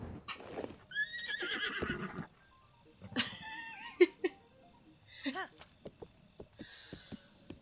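A horse in The Legend of Zelda: Breath of the Wild on Nintendo Switch whinnies and snorts in short bursts, with a few hoof clops between the calls, all rather clean and close.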